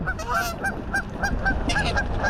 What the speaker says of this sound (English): geese trying to fly into my pole